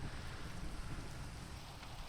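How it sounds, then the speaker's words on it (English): Steady, continuous rain falling in a video game, a dense even hiss that holds at a constant moderate level throughout, with no voices over it. "it's just been raining non-stop"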